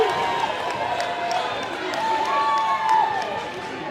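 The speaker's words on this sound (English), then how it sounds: "The crowd lets him hear about it." Basketball crowd at a White Swan versus Cle Elum-Roslyn high school game jeering after a five-second call, a sustained mid-level roar of voices with rising and falling shouts, steady throughout.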